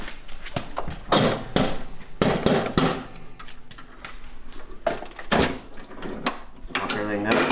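The door of a Vendo V-44 bottle vending machine is shut, giving several sharp metallic clunks and thumps between stretches of a person talking.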